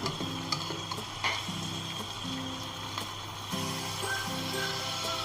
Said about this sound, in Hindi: अदरक लहसुन के पेस्ट को और प्याज को आप थोड़ी देर के लिए भून लें